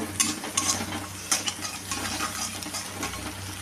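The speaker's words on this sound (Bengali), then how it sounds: "ডিমটাকে নাড়তে নাড়তে ডিমটা পুরো ফ্রাই করে নেব।" Egg stirred and fried in a pan for egg chow mein, a steady sizzle close up with scraping and clinking of a utensil against the pan.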